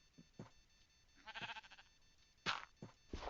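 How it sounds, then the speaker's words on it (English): Short synthetic sheep bleats from the Minecraft video game, a few brief nasal calls scattered through quiet, clear and close with no talking. "And now, sheep!"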